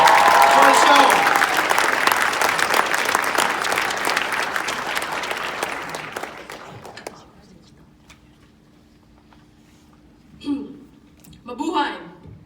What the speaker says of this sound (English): A round of applause for our Culture Night chairs, everybody.